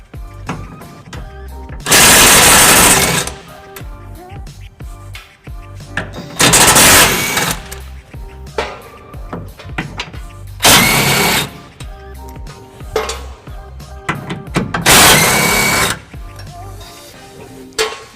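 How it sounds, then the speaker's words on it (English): Power tool spinning off 17mm bolts on a 2013 Nissan Titan during a trailer hitch installation. Four loud, close bursts of whirring rattle, each about a second or two long, with quieter clanking and handling noises between them. "We'll be using our power tool right here to be taking those off."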